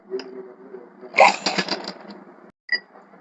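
A sewing machine runs a short burst while stitching the side seams of a lining and outer fabric together, a close whirring rattle of about a second, with brief mechanical clicks before and after.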